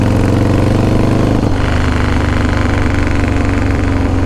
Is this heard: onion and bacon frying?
no